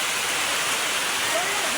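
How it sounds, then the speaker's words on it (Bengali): Heavy rain pours down in a dense, steady roar of hiss with no gaps, close and loud throughout. "আজকের বৃষ্টি এত পরিমাণ স্পিডে নামছে"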